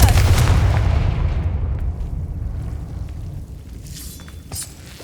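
A Confringo spell blast in the Hogwarts Legacy video game bursts loudly at the start, then rumbles and decays over several seconds with small crackles near the end.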